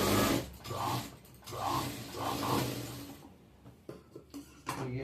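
A sewing machine runs in short bursts of stitching while double-stitching a salwar, with the motor whirring loudly and starting and stopping several times.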